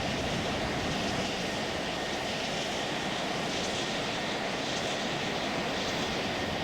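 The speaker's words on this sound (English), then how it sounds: "right now we're just simply taxiing." An airplane taxiing on the runway, heard from inside as a steady, broad engine roar that stays constant and unbroken throughout.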